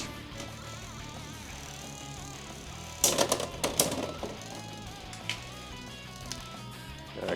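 Beyblade X spinning tops clash in a stadium after launch, a burst of sharp clicking impacts and rattling for about a second, then a few scattered knocks over steady background noise.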